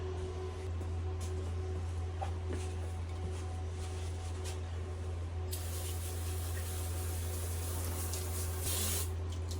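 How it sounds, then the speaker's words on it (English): A steady aerosol hiss of brake cleaner sprayed onto an axle, continuous and fairly loud, with a low hum underneath and a brighter, stronger burst of spray near the end. "let's spray this out with some brake clean."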